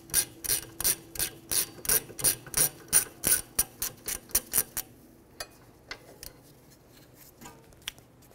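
A ratchet loosens 14 mm rear hub bolts on a 2015-2019 Hyundai Sonata, giving a fast, steady run of crisp, close clicks for several seconds before slowing to a few scattered clicks.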